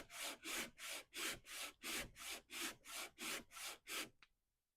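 A wooden handplane sole is rubbed back and forth on abrasive to flatten it, giving ten even, rhythmic scraping strokes close up before it stops.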